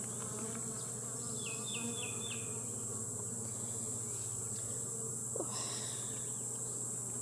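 A steady, dense hum of honeybees buzzing close by at a hive, with a few brief high chirps and clicks over the constant drone.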